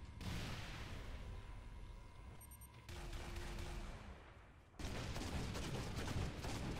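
In the video game Halo Reach, a plasma cannon fires in bursts of rapid blasts, with abrupt loud sections broken by shifts and a short quieter stretch.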